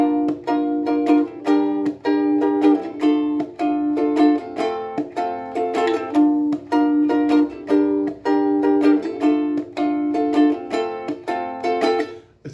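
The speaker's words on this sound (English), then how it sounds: "On ukulele, it could sound like this." A ukulele plays "I Ain't Worried" by OneRepublic as a bright, steady strummed rhythm of repeated chords. It is close and clear, with no voice over it.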